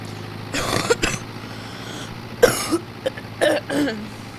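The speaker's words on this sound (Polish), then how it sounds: "sorry za ten kaszel, ale no choroba czasami nie wybiera" Several harsh coughs or throat-clearing bursts in short clusters, close up, over a steady low engine hum.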